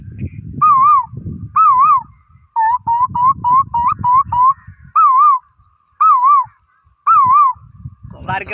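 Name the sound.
boy imitating a cuckoo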